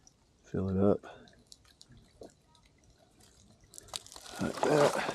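Creek water pours into a Sawyer filter bag, with a splashing, gurgling fill heard twice, briefly near the start and more strongly near the end, close by with little else between.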